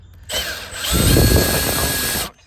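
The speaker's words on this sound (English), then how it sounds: "once you spin it out, it'll go all the way to the end and it'll stop spinning" Power tool with a socket spins out the air filter box bolts on a GMC Duramax diesel, a loud, steady whirring drill run of about two seconds with rising load, close up and without talk.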